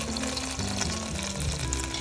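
Strips of gluten fry in a pan of oil, making a steady, loud, close sizzle and crackle that continues throughout with no voices.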